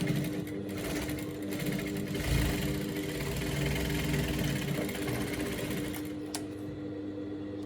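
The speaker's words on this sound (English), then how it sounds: "I'm just going to be sewing the edge closed" A sewing machine runs steadily, stitching the edge of a straight-leg pant closed: a continuous mechanical hum and rapid needle chatter at close range that holds for several seconds, then drops off near the end, with no voices.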